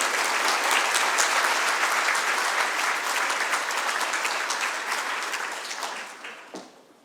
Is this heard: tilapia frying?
no